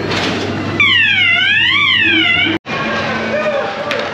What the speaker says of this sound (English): Okay, that is the ghost train.